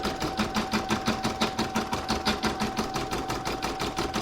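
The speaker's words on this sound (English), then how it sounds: "I'm going to pop it into my machine and stitch round number 1" An embroidery machine stitches the outline of a snowman coaster on hooped stabiliser with a steady, rapid mechanical rhythm of needle strokes and a constant motor hum, close by.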